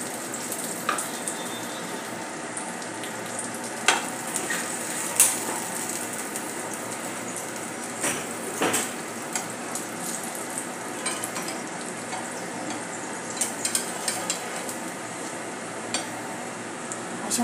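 Snack for a school lunch box being dry-roasted and stirred in a kadhai: a steady close hiss with scattered scraping clicks and a few louder knocks, no voices.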